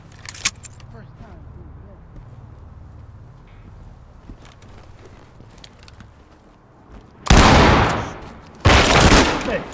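In the tactical shooter Ready or Not, a shotgun blasts through a door breach, followed by a second loud burst of gunfire, after a stretch of quiet rustling and faint clicks.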